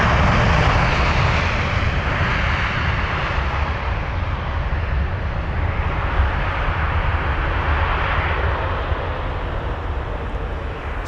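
A Royal Jordanian Boeing 787-8 Dreamliner airliner at London Heathrow gives a loud, steady broadband engine roar that holds near-constant for the full length, close and unbroken.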